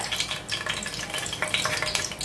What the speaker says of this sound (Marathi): आता आपले खडे मसाले थोडेसे तेलावरती असं परतूया